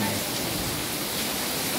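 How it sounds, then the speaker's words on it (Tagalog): Heavy rain pours down outside a condominium clubhouse, a steady dense hiss filling the whole moment at moderate level with no clear voices. "Yan po, lakas ng ulan."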